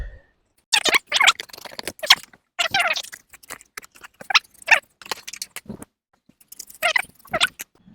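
Short bursts of crisp snipping and scraping from an old pair of blunt scissors cutting through cardboard, in uneven clusters separated by brief pauses.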